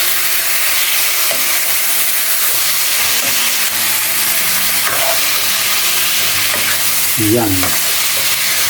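Adobo with soy sauce, vinegar, pepper and liquid seasoning sizzles and bubbles steadily in a pan, a continuous close frying hiss with faint stirring clinks, and a brief word spoken near the end.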